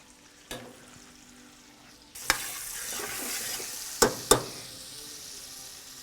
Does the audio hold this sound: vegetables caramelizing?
yes